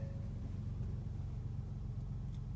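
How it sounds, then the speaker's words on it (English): A 2021 Ford Expedition Limited Stealth Edition engine runs just after start-up, holding a low, steady, muffled idle rumble heard from inside the cabin, fairly quiet and with no voices. "let's go ahead and start up the Expedition here"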